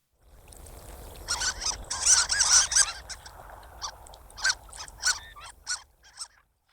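Harlequin duck calls in a series of short, high, squeaky honks and chirps, irregularly spaced and fairly close, with no talking and only a faint background hiss.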